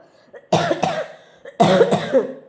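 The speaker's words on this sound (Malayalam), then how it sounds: "ഞാൻ ഈ ചുമയ്ക്കുന്നത് നിങ്ങൾക്ക് ഭയങ്കര ഡിസ്റ്റർബൻസ് എന്ന് എനിക്ക് തോന്നുന്നു" Two harsh, close coughing fits, each a pair of rough bursts, separated by a quiet pause.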